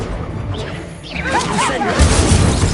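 Incendio fire spell cast in Hogwarts Legacy, a whooshing burst with crackling flame and swishing, loud and close, layered with other spell effects.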